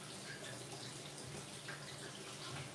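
Tap water runs steadily into a kitchen sink as mushrooms are rinsed under it, a soft, even wash of splashing that stays fairly quiet throughout.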